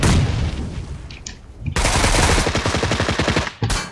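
Rapid automatic gunfire in the video game PUBG Lite, loud bursts of close, evenly spaced shots that pause briefly and then resume, with no talk.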